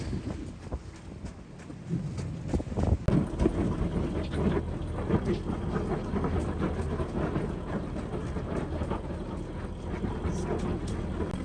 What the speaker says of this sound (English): we went from like no wind to a lot of wind.